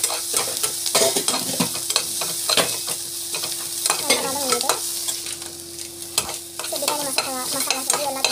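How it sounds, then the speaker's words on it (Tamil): Masala and tomato sautéing in a pan, with a steady close sizzle and repeated scraping stirs from a spoon, loud and without talk. "நல்லா வந்து வதக்கி விட்டுருங்க."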